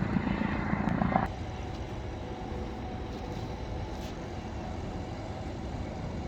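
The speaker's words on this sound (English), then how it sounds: "I was talking about this police helicopter. It was just approaching to land, just landed" A police helicopter landing at Birmingham Airport gives a steady, broad rotor and engine roar at moderate distance; the sound is louder for the first second, then holds at an even level.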